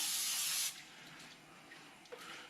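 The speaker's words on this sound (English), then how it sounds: "I'm going to spray some brake cleaner just to dry it up a little bit" A single close burst of aerosol brake cleaner hisses onto oily Jeep Patriot rear wheel bearing parts for under a second, then stops, leaving quiet workshop background.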